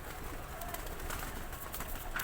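Pigeons kept by a fancier in Islamabad, faint soft cooing and fluttering under a steady wash of outdoor noise, low in level and heard without speech.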